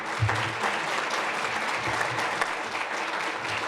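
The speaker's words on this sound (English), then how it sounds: "a round of applause for the experience that's in this room" A room of broadcasters at a luncheon breaks into sustained applause, a fairly soft, even spread of many hands clapping with faint voices underneath.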